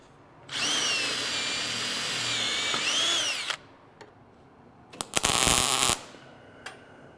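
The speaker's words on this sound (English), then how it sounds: "Drill 3 holes." A power drill whines steadily for about three seconds, then a few clicks, then a short second burst of drilling three holes while building a truck tray-bed, close and loud, with no voices.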